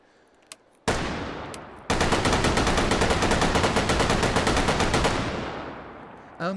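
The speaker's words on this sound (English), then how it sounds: "So you'd fire this weapon like so" A Bren light machine gun fires in the VR shooter H3VR: a sharp single shot, a short burst, then a sustained rapid automatic stream of loud, evenly spaced reports that stops abruptly, with a faint clatter afterward.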